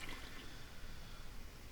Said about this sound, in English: We're going to take the vacuum one and flush it to Hoagie.